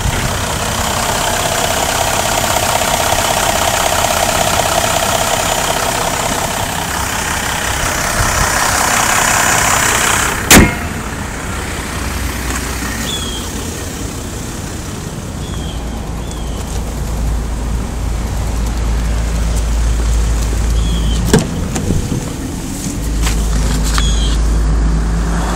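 A 2014 Jeep Grand Cherokee 3.0 EcoDiesel engine runs steadily nearby for a long stretch, a low, even hum with a couple of sharp clicks and faint knocks along the way.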